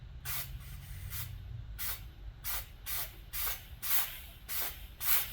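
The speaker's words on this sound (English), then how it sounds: "It's just shooting out of the bottom of that thermostat housing." Compressed air hisses out of a leaking thermostat housing on a 1969 Buick Electra engine in repeated sharp bursts, about nine short spurts in five seconds with brief gaps between them.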